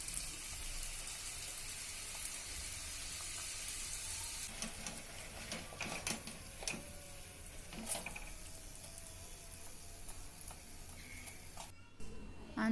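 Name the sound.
frying sooji aloo patties in oil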